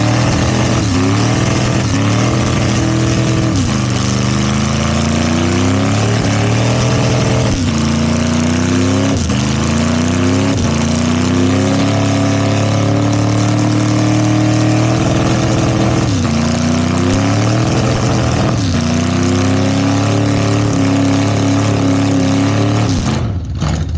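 A car with a line lock does a burnout at a burnout competition. The engine revs loud and close in long, rising and falling surges while the rear tire keeps spinning, with no voices over it.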